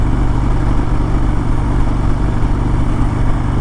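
A Harley-Davidson Road Glide engine drones steadily while riding, a loud, close, continuous low rumble with wind noise layered on top and no variation in pace.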